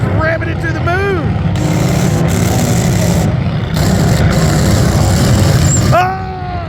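A 2004 Honda TRX400EX-type ATV engine revs hard and steadily at a track event, loud and continuous with rising and falling pitch, while people talk and shout over it nearby.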